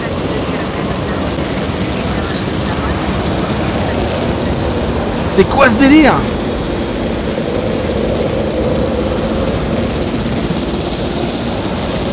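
Strong tornado wind gusts in Jurassic World Evolution roar as a continuous broadband rush throughout. Someone speaks briefly in French partway through.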